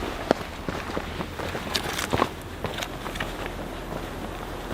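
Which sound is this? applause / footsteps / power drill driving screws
footsteps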